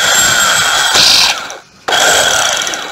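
A used cordless Makita-style hammer drill, model 6813 with two modes, whirs at steady high speed, stops briefly, then spins up again, loud and close with no talk.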